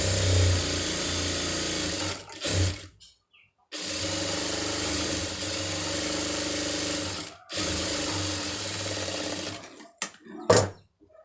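A sewing machine runs steadily close by, stitching piping along the folded edge of a sleeve in three long even runs with short stops between, then a few brief clicks.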